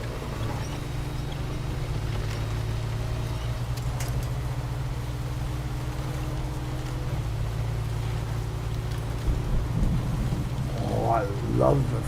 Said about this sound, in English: Oh, I love the thunder.